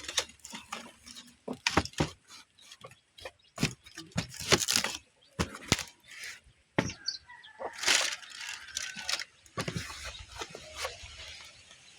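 Chickens cluck in short, irregular bursts close by in a chicken coop, with scattered scratching and flapping noises between the calls.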